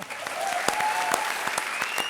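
Loud studio audience applause at a TV comedy show, dense steady clapping with a few sharp claps standing out and a faint whistle-like tone running through.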